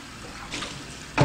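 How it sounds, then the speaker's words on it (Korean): Salted deodeok root is rinsed in water in a kitchen, with soft watery swishing and a louder splash near the end, heard up close. "잘 절여진 더덕은 한번 씻어서 물기를 짜겠습니다"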